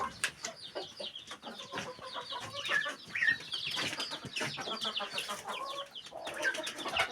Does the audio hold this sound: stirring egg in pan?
no